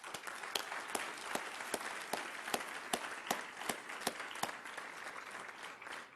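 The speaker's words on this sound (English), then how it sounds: "would you join me briefly in a round of applause for Edelman?" A small audience at a Churchill Club talk gives a brief round of applause, light and fairly distant, with a few sharper individual claps standing out from the steady patter.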